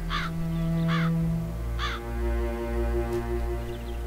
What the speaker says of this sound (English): The crows were a little upset about that, apparently.